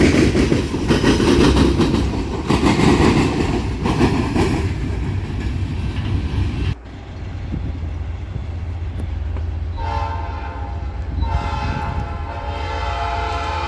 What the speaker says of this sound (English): here comes the end of the train with a really weird sight on the end